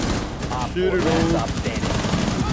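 Rapid automatic gunfire rattles in a Rainbow Six Siege match, loud and close over continuous game noise, with a voice briefly underneath.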